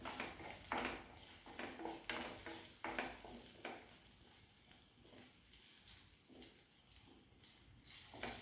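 Three dried red chillies hit hot oil with sizzling garlic, a steady crackling fry with louder bursts early on that settle into a softer hiss.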